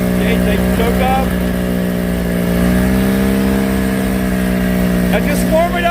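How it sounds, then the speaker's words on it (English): A light aircraft piston engine warms up with the choke on before preflight on a cold morning, a steady loud droning hum with a slight rise in revs partway through. "now warm it up a little bit before you shut the choke off"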